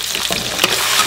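Ginger, garlic, scallion and chili bean paste sizzle in hot oil in a wok, a steady crackling fry with a brief stir near the middle.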